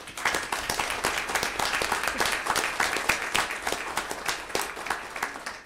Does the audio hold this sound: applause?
yes